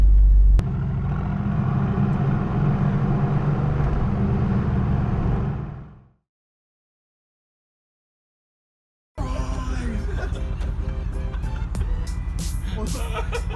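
Mercedes-AMG GT R and SLS engines rumble loudly with a deep, steady drone, then cut to silence for a few seconds before another burst of engine roar returns, with a voice faintly present.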